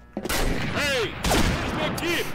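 Gunfire in the online shooter game Combat Arms: sustained, noisy bursts of shots fill the clip, running under excited talk from players.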